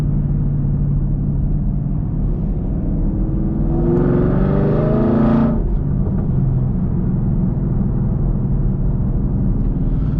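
Point-of-view drive in a 500 whp E85 Camaro SS with Kooks headers, a loud steady interior engine rumble throughout, swelling into a rising rev for a couple of seconds midway before settling back to cruise.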